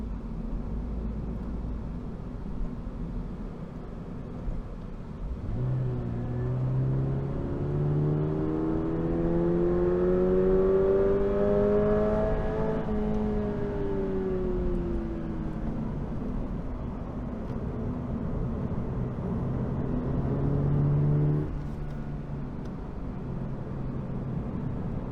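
A 2022 Toyota GR86 sports car engine builds revs as it accelerates while driving, rising steadily in pitch to a peak, easing off, then pulling again; the loud, continuous engine note sits over road and cabin noise, with no talking.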